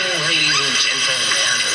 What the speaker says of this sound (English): if you want to hear my radio real quick